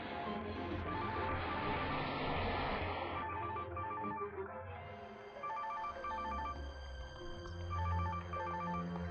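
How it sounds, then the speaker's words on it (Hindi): A phone rings in repeated double trills, fairly close, after a burst of noise fades; no one speaks. "मेरा फोन लगातार बज रहा है।"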